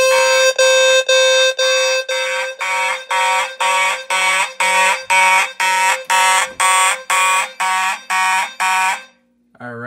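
A System Sensor low-frequency sounder and an Edwards 270 SPO fire alarm blare in march time: loud, close, evenly spaced horn pulses repeating about sixteen times before cutting off.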